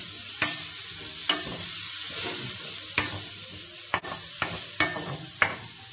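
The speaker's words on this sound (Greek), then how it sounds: "Βάζουμε τώρα το λευκό κρασί." White wine hits a hot pan of prawns being cooked with carob macaroni and hot sauce, raising a steady broadband sizzle, with several sharp stirring clinks and scrapes scattered through it, close and fairly loud, no talking.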